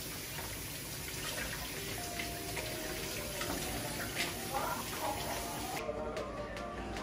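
Tap water running steadily into a sink while an onion is washed under it, a soft, constant splashing with faint handling, cutting off near the end.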